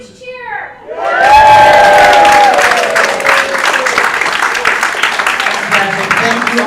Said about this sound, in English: everyone needs to give a huge cheer